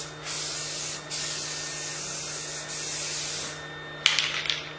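A spray can sprays primer in long hissing bursts separated by short pauses, followed by a brief scratchy rattle near the end.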